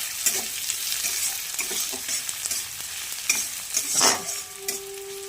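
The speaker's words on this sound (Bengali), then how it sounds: "এবার পেঁয়াজটা ভাজা হয়ে এসছে প্রায়" Nearly browned onions sizzle in hot oil in a pan for a thin chicken and papaya curry, a continuous close crackle with occasional stirring scrapes and a brief metallic ring near the end, no voices.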